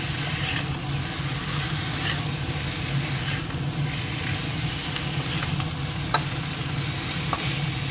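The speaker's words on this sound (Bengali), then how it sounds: "চিকেনটা দিয়ে দিলাম একটু ভেজে নেবো পেঁয়াজের সঙ্গে এবার" Chicken and onions sizzling steadily in a pan, a constant frying hiss with occasional stirring scrapes and light clinks.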